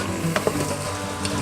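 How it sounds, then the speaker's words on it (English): Quick stirring of Hungarian goulash soup in an Instant Pot, a soft steady simmer with a few light scraping knocks of the spoon. "I'm gonna give it a quick stir up here"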